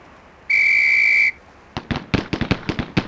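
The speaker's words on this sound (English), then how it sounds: "On the whistle." A sharp, steady whistle blast lasting under a second signals the start of a firing drill in the Police Quest: SWAT video game, followed by a quick series of loud gunshots in uneven pairs and singles.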